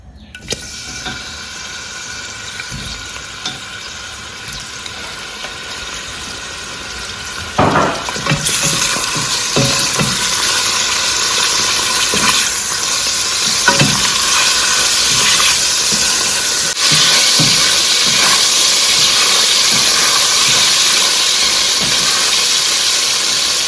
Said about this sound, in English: I'll add some oil to the pan. I'll go ahead and add my Tooloo Beef.